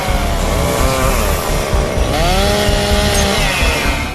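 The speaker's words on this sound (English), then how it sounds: "then brought chainsaws to cut off the branches." Chainsaws cut through tree branches during a firefighter rescue, a loud, steady engine whine with rising and falling pitch sweeps as the blades bite into the wood, running continuously and close.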